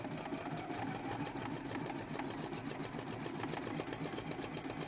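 A sewing machine stitches raw edge applique onto a quilt block with tearaway stabilizer underneath, humming steadily with a fast, even needle rhythm at close range and no voices.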